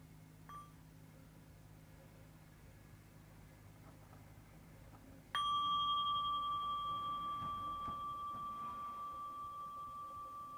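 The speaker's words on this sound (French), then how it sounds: "Voilà un petit son de cloche pour" A meditation bell struck once to close a session rings out clearly and sustains a long, slowly fading tone after a quiet stretch of room hush.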